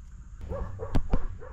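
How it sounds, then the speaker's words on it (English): A dog barks indoors with a few short, moderately close woofs and yips spaced about a quarter second apart, over a low steady background hum. "in case you ever hear a dog barking in my videos"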